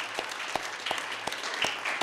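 An audience at a community meeting applauds a local healthcare activist, with fairly even, steady claps over a soft crowd background.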